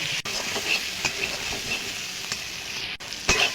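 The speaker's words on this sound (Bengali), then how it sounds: "এবার দিয়ে দেব জিরে ধনে বাটা আদা আর শুকনো লঙ্কা বাটা দিয়ে এটা ভালো করে আর একটু কষিয়ে নেব" A paste of cumin, coriander, ginger and dried red chilli frying in oil for a country chicken curry, sizzling steadily with close stirring scrapes and a few sharp clicks.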